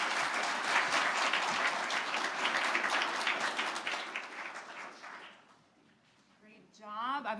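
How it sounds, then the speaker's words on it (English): Applause from a crowd fills the room for several seconds, then fades away, and a voice begins speaking at the end. "Round of applause."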